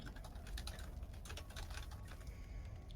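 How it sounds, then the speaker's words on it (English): Fast, frantic clatter of keys on a computer keyboard, dense and continuous, faint against a low background hum, with no talking. "We heard some frantic typing."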